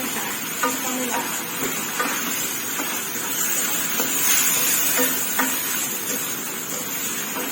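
Steady stir-frying in a pan for a Thai pork-and-ginger dish, with continuous sizzling and hiss and soft scraping stir strokes throughout, fairly close and loud, with no talk.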